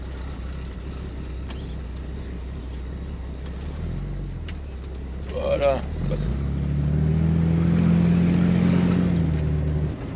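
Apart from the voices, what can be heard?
1966 Chevrolet Corvair Monza six-cylinder engine driving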